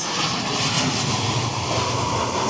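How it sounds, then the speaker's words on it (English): A private jet lands at Lanzarote, its engines giving a loud, steady roar that holds across the whole moment with no voices heard. "Hey, that's a private jet."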